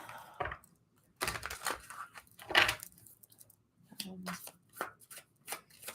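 Tarot cards are shuffled and handled in short, close bursts of riffling and flicking with quiet gaps between them, and a voice speaks briefly among them.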